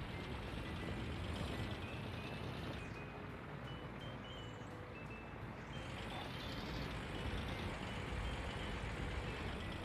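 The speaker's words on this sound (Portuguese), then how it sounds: "Pô, bonitaço esse caminhão, hein?" Truck manoeuvring to park, with a continuous low engine rumble and faint tonal beeping over a steady noisy background, heard at moderate distance without speech.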